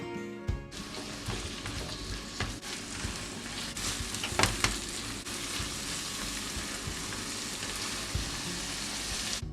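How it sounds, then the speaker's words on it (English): Chopped spring onions and large onions sautéing in a pan, a steady broadband sizzle running throughout with occasional stirring clatter and brief spikes, close and fairly loud with no talking. "2 to 3 spring onions chopped. Sauté well."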